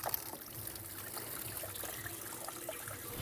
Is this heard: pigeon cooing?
no